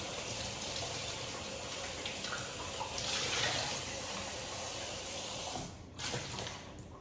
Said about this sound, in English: Now, I'm going to wash this lid some more.